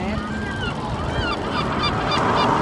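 Geese on a river honk repeatedly over steady outdoor background noise, with several calls overlapping at a moderate distance.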